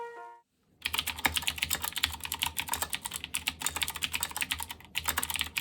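Rapid typing on a worn RK61 mechanical keyboard with stock Outemu Red switches, a dense, steady clatter of close keystrokes after a brief tonal beep at the start, with short pauses between bursts.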